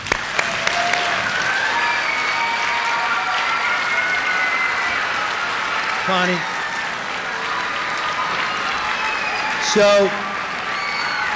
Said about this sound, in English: Could you please give Ms. Moran a round of applause?